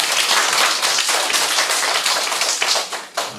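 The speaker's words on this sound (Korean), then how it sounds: "우리 박수 한번 보내주세요." Audience applause from a lecture crowd, a dense steady wash of many hands clapping close by that thins out and fades toward the end.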